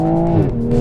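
Toyota Supra MK5 2020 engine pulling hard under acceleration, a steady, loud, close tonal drone that rises slightly in pitch, heard alone without talk.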